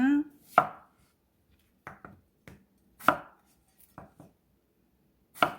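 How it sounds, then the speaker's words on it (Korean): Potatoes being diced with a knife on a cutting board: sharp, separate chops in small irregular clusters, close and crisp, with quiet pauses between them. "감자도 마찬가지로 깍둑썰기 해주시면 됩니다"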